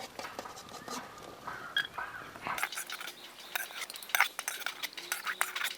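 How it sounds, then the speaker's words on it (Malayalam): A spoon scoops fried cashew nuts out of hot ghee in a pan, with soft scraping, clinks and quiet stirring sounds close by. "നമുക്കിനി ഇത് കോരിയെടുക്കാം."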